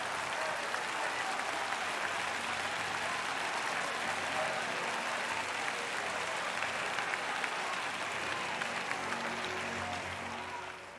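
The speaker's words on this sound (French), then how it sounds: "Give him a clap." A church congregation claps steadily for about ten seconds, a dense and continuous wash of applause from a large crowd that stays even throughout and tapers slightly at the very end.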